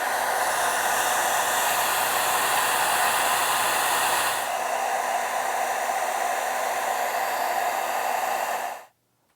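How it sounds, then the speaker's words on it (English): A hair dryer blows steadily with a broad whooshing roar, dropping to a slightly softer setting midway before switching off abruptly near the end. "I'm just going to use the hair dryer."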